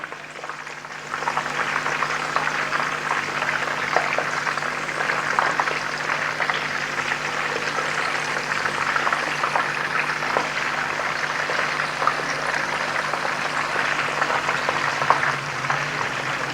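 Nargasi kofte frying in oil until golden brown, turned over on both sides: a steady, close sizzle with fine crackling that runs unbroken throughout, with no talking.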